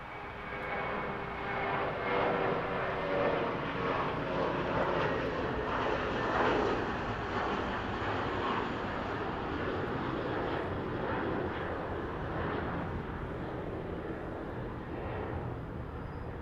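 An American Airlines jet takes off from runway 25 right at LAX, a loud, steady engine roar that holds for the full span with no voices.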